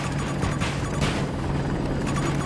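Combat helicopter in Battlefield 2042, likely an AH-64 Apache, heard as a steady, dense rotor and engine roar that holds constant throughout with no pauses.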